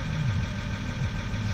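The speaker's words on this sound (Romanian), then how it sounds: "Momentan motorul încă este rece și nu-l turez deloc." A cold car engine idling unrevved, a steady low rumble with a faint irregular knock and a mechanical hum that hold throughout, with no talk over it.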